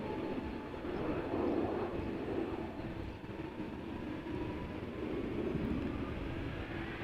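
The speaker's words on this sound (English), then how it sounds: "Boeing 777-200 going to Newark." A United Airlines Boeing 777-200, 25 years old, at Amsterdam Schiphol Airport, producing a steady broadband jet roar with a low rumble that holds fairly constant throughout, moderately distant and without talk.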